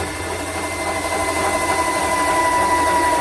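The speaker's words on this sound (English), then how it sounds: "We're not going to stand under that winch when it's going." A motorized winch pulling a boat drones steadily and loudly, a constant mechanical whine with no pauses.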